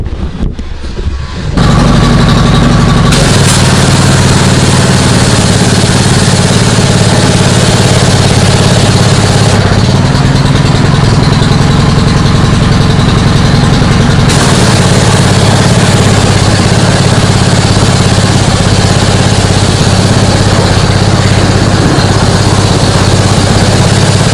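A pressure washer engine drones steadily and loudly at a constant pitch while a car wheel is sprayed down, running unbroken from start to finish with no talking.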